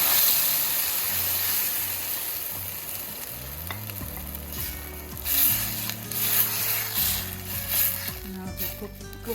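Tomato puree hits a pan of frying onion and ginger garlic masala for chana masala, setting off a loud, steady sizzle and hiss with stirring scrapes throughout.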